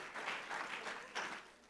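Audience applause at a pension investment seminar, a steady wash of clapping that swells in waves over nearly two seconds.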